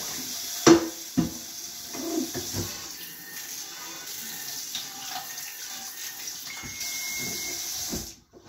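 Cold tap water runs hard into a kitchen sink, rinsing lye water used for soft pretzels down the drain: a steady close hiss with a few clattering knocks, cutting off abruptly at the end.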